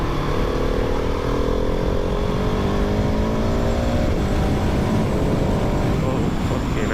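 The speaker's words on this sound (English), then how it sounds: "It's just so addictive, winding it up and hearing it go." A 2023 Husqvarna 701 Supermoto motorcycle engine revs steadily and loudly, its pitch climbing and falling in long sweeps, with constant rumbling noise and no pauses.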